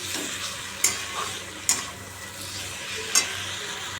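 Spices frying and being stirred into a vegetable curry in a pan, a steady soft sizzle with three sharp scrapes of a spoon against the pan spaced about a second apart, close by and with no voices.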